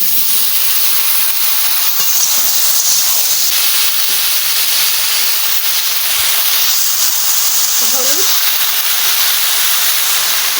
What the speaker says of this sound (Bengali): সর্ষে দিয়ে দিচ্ছি তেজপাতা দিয়ে দিচ্ছি লাউ দিয়ে দিচ্ছি